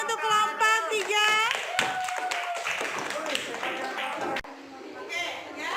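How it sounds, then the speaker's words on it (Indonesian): A classroom group claps for a student team after their project presentation, scattered clapping mixed with talk and voices speaking over it, close and moderately loud. "Tepuk tangan untuk kelompok 3."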